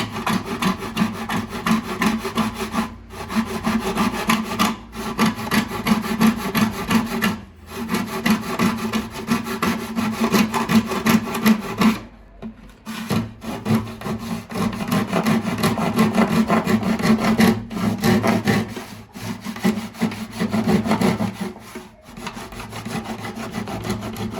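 Hand saw cutting a wooden part of a bağlama (Turkish long-necked lute) during repair, steady rhythmic back-and-forth strokes, close and loud, with a few brief pauses between passes.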